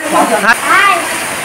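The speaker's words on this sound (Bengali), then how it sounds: "মুসুলধারে বৃষ্টি রে, এই যে দেখো গাইজ কত জোরে বৃষ্টি হচ্ছে" Torrential rain falls as a dense, constant hiss of water, partly masked by a close, loud voice speaking over it for most of the moment.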